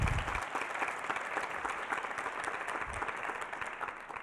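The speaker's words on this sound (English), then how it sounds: "go ahead, clap it up" Audience applause at a college state-of-the-college address, a dense, even wash of clapping from a crowd, moderately loud and steady, with a little low rumble at the start.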